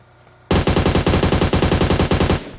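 Sustained automatic gunfire in a battle royale video game, a loud close burst of rapid, evenly spaced shots lasting about two seconds after a quiet start, with no talk.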